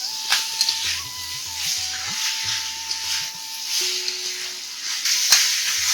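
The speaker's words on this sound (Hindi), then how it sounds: "तेज आंच में हमने लगातार चलाते हुए 1 मिनट तक भूनना है।" Lungdu (fiddlehead fern) sabzi stir-frying over high heat, a steady bright sizzle and hiss running throughout with occasional clinks of stirring, close and fairly loud, with a low tonal hum beneath.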